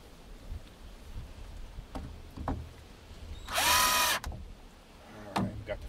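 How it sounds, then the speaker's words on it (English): A power drill drilling a pilot hole whirs in one loud, steady burst of under a second, surrounded by quieter clicks and handling knocks. "I want to drill another pilot hole for this side."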